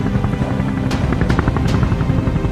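Old Russian helicopter used for a landing deep in the Caucasus mountains, a loud continuous rotor and engine roar with rhythmic blade thumping, close and steady throughout.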